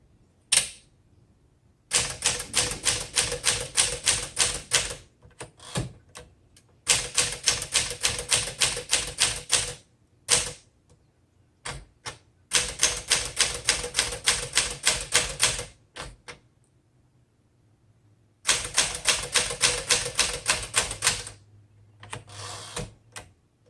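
Typing on a 1962 Smith Corona Sterling manual typewriter in seafoam green, heard as three long bursts of rapid, crisp key strikes close up, separated by short pauses and a few scattered single clacks.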